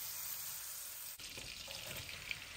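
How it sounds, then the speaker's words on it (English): Stuffing ingredients sauté in butter with salt and pepper in a pan, giving a steady, faint sizzle and frying hiss with a brief stir partway through. "I get that sauteed with the butter and some salt and pepper."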